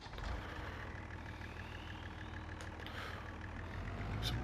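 Fiat tractor engine in Farming Simulator 25, a steady low diesel drone running continuously at an even level, close and alone with no talk over it.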